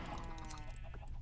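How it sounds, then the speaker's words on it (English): Minecraft chickens cluck in a short burst of game sound, close and clear with no talking over them. "I don't think we should kill all the chickens."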